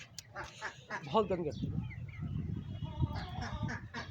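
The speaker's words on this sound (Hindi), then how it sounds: "ये बत्तख है ना" Ducks kept at a small home mini zoo quack in short nasal bursts close by, mostly at the start and again near the end, with someone talking over and between the calls.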